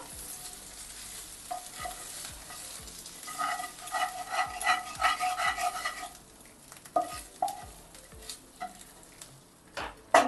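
Spices and other ingredients get stirred into dal for a teetar dal, a soft sizzle under repeated spoon scrapes and clinks against the pot, near and uneven, with no voices.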